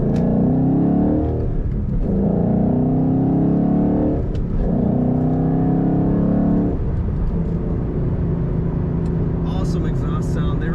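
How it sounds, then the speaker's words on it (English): Revving exhaust of a white 2011 Ford Mustang Roush Stage 1 with a 6-speed manual, loud and close, rising in repeated surges then settling to a steady rumble, with a voice talking over it. "Awesome exhaust sound. They really got it right with this car."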